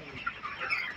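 Broiler chickens on a farm cluck and shuffle about in a steady, busy flock murmur, with a couple of louder clucks standing out close by.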